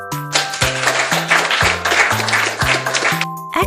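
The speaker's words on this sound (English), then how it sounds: "Give yourself a big clap" A crowd claps in a dense, bright applause sound effect that sits under a cheerful melody with a bouncing bass line, loud and sustained for a few seconds before cutting off.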